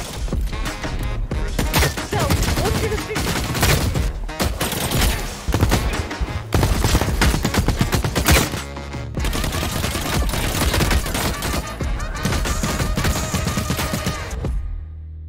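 Sustained gunfire in the video game The Cycle: Frontier, dense rapid bursts and volleys crackling almost continuously and loudly, with brief pauses between strings of shots.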